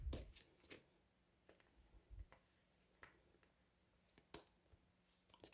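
Tarot cards shuffled by hand, sparse crisp riffles and soft clicks in short bursts separated by near silence, close and quiet, with no talking.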